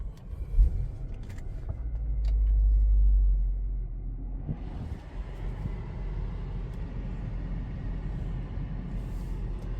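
A 2006 Mercedes-Benz ML500 W164 with automatic transmission drives along, its low road rumble and engine drone swelling briefly then settling into a steady cabin hum, with no talk.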